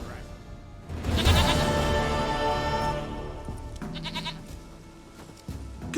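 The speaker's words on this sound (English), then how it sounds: "Goat of mine, dearest, sweetest goat." A goat in The Witcher 3 video game bleats in one loud, wavering cry that then trails into quieter bleats, set against ambient game sound with a little talk.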